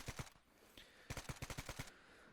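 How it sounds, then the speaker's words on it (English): RPK machine gun fire in the Arma 3 video game, a short double shot followed by a rapid burst of about seven distant-sounding rounds, fairly faint with echoing tails. "One of my guys is just laying into him with his RPK."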